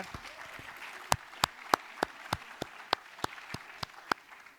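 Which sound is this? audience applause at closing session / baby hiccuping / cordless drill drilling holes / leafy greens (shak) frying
audience applause at closing session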